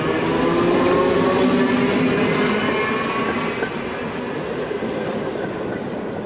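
An old electric railcar passes close by, its steady loud rumble and rail clatter filling the whole stretch, easing slightly toward the end.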